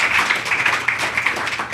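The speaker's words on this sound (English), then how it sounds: "can we give a round of applause for Margo" Audience applause for a speaker named Margo at a real estate investing talk: dense, steady clapping from a crowd that holds fairly even throughout the short stretch, with no voices standing out.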